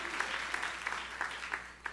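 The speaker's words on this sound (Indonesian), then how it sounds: "Sorak-sorai yang paling meriah buat Allah kita." A church congregation claps and cheers in praise to God during a lively worship service, a dense steady patter of applause with sharp bursts of clapping rising throughout.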